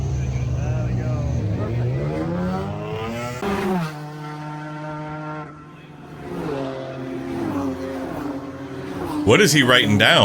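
Race cars speeding past the start line at a race start in South Africa, engine roars rising and falling as they pass, mixed with people talking nearby.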